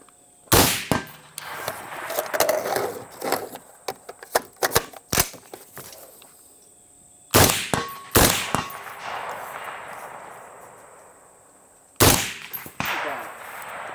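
Rifle shots fired through an XM-157 smart optic outdoors, several loud sharp reports spaced seconds apart, each ringing off with a metallic clang and echo, no talking.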